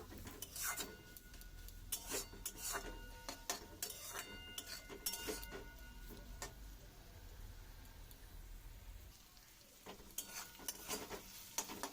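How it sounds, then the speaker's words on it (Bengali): Repeated scraping and stirring of bitter gourd chorchori in a pan, a metal utensil rasping against the pan in irregular strokes over a soft sizzle, close and fairly quiet, with no voices. "চিনি দেওয়ার পরে কিছুক্ষণ আবারও নাড়িয়ে নেব।"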